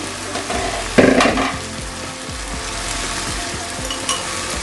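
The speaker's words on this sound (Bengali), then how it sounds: "এবার আমি লো আছে চিকেনটাকে পাঁচ মিনিট কুক করে নিব" Chicken for spicy chicken pulao frying in a pot on low heat, a loud steady sizzle with a brief burst of stirring clatter near the start and occasional scrapes, with no one speaking.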